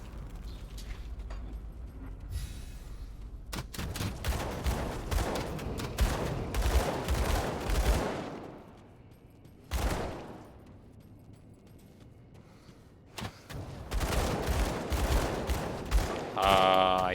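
Dual pistols firing elemental bullets in the video game Grim Dawn, heard as rapid, dense volleys of gunfire in bursts with brief lulls and crackling impact effects between them.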